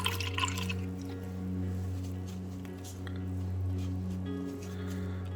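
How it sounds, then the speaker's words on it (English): A paintbrush is swished and rinsed in water while miniatures are painted, producing soft sloshing and dripping sounds over a steady low electrical hum, close and fairly quiet. "Alright, clean the brush."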